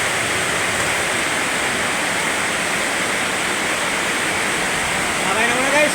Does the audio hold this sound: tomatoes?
no